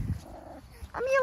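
A dog whimpers and yips just before going inside, with brief high whines at close range after a short muffled thump.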